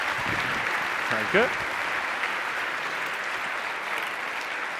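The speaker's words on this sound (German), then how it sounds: "Nochmal einen Applaus." Sustained audience applause at a science slam show, broad and steady, with a brief spoken word of thanks cutting through near the start.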